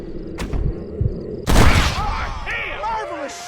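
A gunshot in Red Dead Redemption, a sudden loud crack and boom followed by a fading tail, with a few softer thumps before it and game sounds after.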